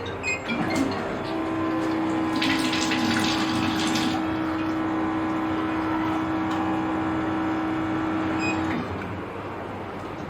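A Kenaix alkaline water ionizer machine runs with a steady electric pump hum and water flowing through it, close and continuous for several seconds before the motor tone stops near the end.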